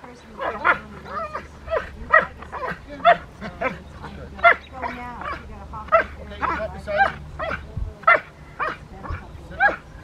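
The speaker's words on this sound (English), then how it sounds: "then you can send him for barking" A Rottweiler barks in sharp, repeated bursts during protection training, loud and close, while someone talks in between the barks.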